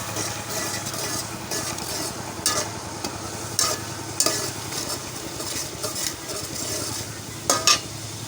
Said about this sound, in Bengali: এই যে আমি এখানে 2 পিস মাছ দিচ্ছি।